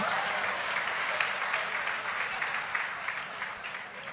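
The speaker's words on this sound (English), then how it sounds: "A big round of applause." An audience claps for a guest invited onto the stage at an education talk, a sustained even wash of applause from many hands filling the whole stretch and easing slightly toward the end.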